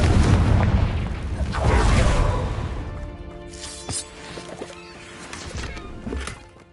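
Blasts from the Confringo fire spell in the Hogwarts Legacy video game boom loudly at the start and again near two seconds, followed by smaller pops and crackles as the fight continues.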